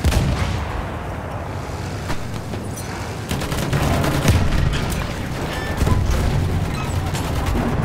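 Battlefield 1 combat with a grenade going off among a steady racket of rifle and artillery fire, loud booms and sharp cracks through the mix and no clear talking.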